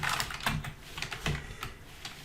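Quick, light keystrokes on a computer keyboard as a survey name is typed into an online questionnaire form, a short run of close, crisp taps with no talking.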